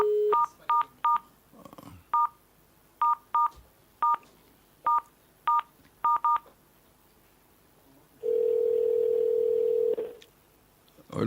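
Touch-tone telephone dialing: about a dozen short, crisp keypad beeps in an uneven sequence, followed by a long steady tone lasting roughly two seconds, close and clear with no talk.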